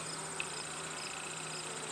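Honeybees hum inside an opened hive during an inspection, a soft, steady buzzing drone with no voices.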